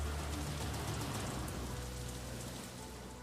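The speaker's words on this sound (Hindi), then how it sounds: "अब तो बाहर भयानक बारिश भी होने लग गई है।" Heavy rain pours down outside a tunnel, a dense continuous hiss of falling water with a low rumble beneath, steady and fairly loud throughout with no voices.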